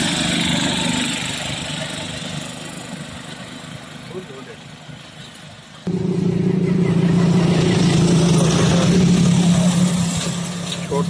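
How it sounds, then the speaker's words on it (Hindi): A Mazda mini truck carrying a small container drives along a road, its engine a steady low rumble that jumps suddenly louder about halfway through, as if passing close by. "छोटा कंटेनर है पीछे, मज़दा गाड़ी है, ये मिनी ट्रेलर कह सकते हैं आप"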